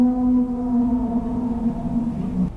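Recording presented as the Bloop, a loud underwater ocean sound: a single sustained low tone with harmonics that slowly glides downward over a couple of seconds, then cuts off abruptly.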